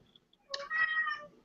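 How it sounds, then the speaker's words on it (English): A cat gives a single clear, fairly close meow lasting under a second, preceded by a few faint clicks and otherwise quiet surroundings. "Kitty meow."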